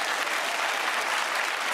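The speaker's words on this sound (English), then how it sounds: "Big round of applause to you." Studio audience at a comedy panel show breaking into steady, full applause, a dense wash of clapping that carries evenly through the short clip.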